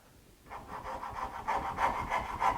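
A Knew Concepts fret saw with a thin blade cuts across a baseline in wood. Quiet to begin, it settles into a steady rhythmic rasp of back-and-forth strokes that grows slightly louder, alone without talk.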